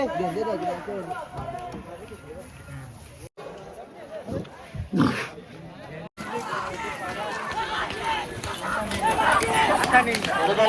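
Hooves pound across an open field as bulls charge past in a bull race, with a crowd cheering and shouting loudly throughout, the noise swelling toward the end.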